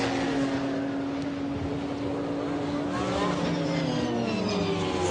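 A Nissan Skyline GTR race car at the 1995 Le Mans 24 Hours gives a loud, continuous engine drone with steadily shifting, rising harmonics.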